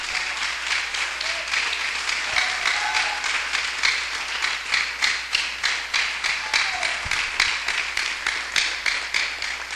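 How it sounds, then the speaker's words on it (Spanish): A church congregation applauds steadily at a moderate distance, with dense clapping that holds a rhythmic pulse through most of the stretch and no speech on top. "Brinden un aplauso al Señor."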